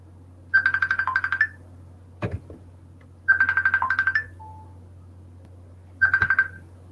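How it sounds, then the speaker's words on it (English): A cell phone, a tablet and a laptop, all synchronized, ring together in three bursts of rapid trilling chirps with short pauses between. The rings are moderately loud over a low steady hum, with a brief knock between the first two bursts. "There's a cell phone, a tablet, my laptop, so it's just everything's synchronized. Mm-hmm. If one goes off, they all go off."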